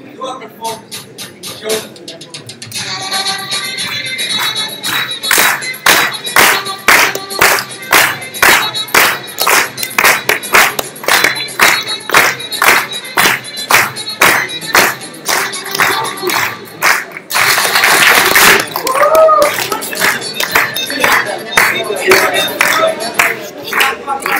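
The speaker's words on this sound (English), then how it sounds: "You go like this, and then you clap your hands" Rhythmic hand clapping from a group of people keeps steady time with music at a dance gathering, sharp regular claps running throughout over the tune, with a brief louder burst of noise near the end.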